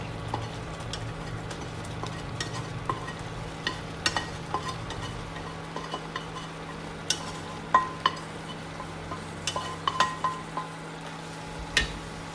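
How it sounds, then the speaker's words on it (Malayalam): A spoon repeatedly scrapes and stirs scrambled egg into boiling onion masala in a pan for an egg varaval, with steady sizzling underneath and irregular clinks of metal against the pan. "ഇപ്പം നന്നായിട്ട് തിളച്ച് വന്നിട്ടുണ്ട് നമ്മൾ സ്ക്രാമ്പിൾ ചെയ്ത് വെച്ചിരുന്ന മുട്ട ചേർക്കാം"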